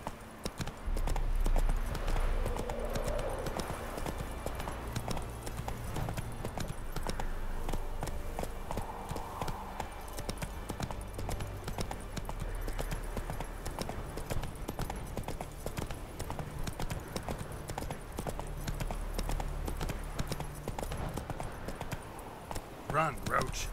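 Geralt's horse Roach gallops in The Witcher 3, a fast steady clip-clop of hooves running throughout under a voice urging the horse on.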